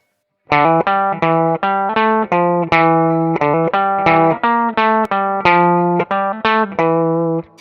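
A bright electric guitar plays a repeating riff in short, evenly picked notes, looping several times with a steady rhythm and no voices.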